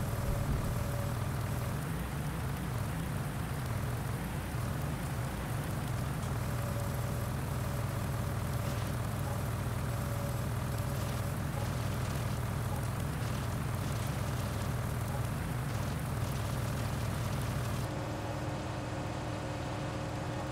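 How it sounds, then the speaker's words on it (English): Steady rain falling in Farming Simulator 19, a constant close hiss over a low engine-like rumble, running evenly throughout. "Is it slippery because it's raining?"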